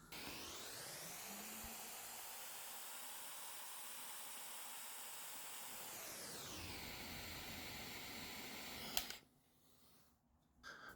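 Soldering torch hissing steadily while a silver bezel cup is soldered, a constant close roaring hiss that dips in pitch and then cuts off abruptly, leaving a faint quiet tail.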